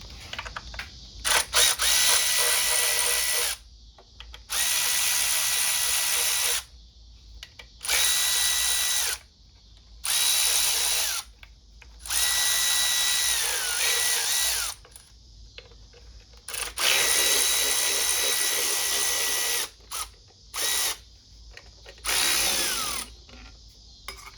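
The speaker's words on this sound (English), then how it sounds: "I'm gonna crack open the E10 bolts, 5 on top, 4 on the bottom." Power tool drives out the E10 bolts on a 2003-06 Mercedes E320 (W211), a loud whirring drill-like burst repeated about nine times with short pauses between, plus faint ratcheting clicks.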